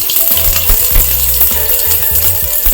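Dried red chillies, cumin, garlic and spices sizzling and crackling steadily in hot mustard oil in a pan, with small spattering pops and occasional utensil clinks, close and continuous.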